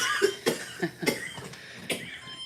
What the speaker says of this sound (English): Open room cough.